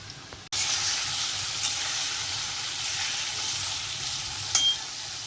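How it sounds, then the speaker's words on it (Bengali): Pumpkin pieces frying in a pan after potatoes and pointed gourd, a steady close sizzle and hiss that holds for about five seconds, with a faint clink near the end and no voices. "এখানে একটু কুমড়ো ভাজছে।"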